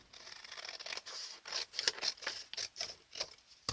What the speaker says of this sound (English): I'm going to trim off the flap and this bottom one